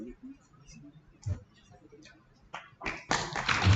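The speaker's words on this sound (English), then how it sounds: "A round of applause for the next" After a few seconds of quiet with scattered taps and murmurs, applause bursts out from the audience at a youth innovation competition event. It rises suddenly into a dense, loud clatter of clapping hands that runs to the end.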